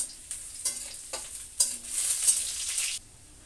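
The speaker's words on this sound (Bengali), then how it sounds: "রসুনটা ভালোভাবে ভাজা হবে" Chopped garlic sizzles and spits in hot oil as a tempering for jute-leaf lentil dal, a steady close frying hiss broken by a few louder crackles and stirring scrapes, with no talk.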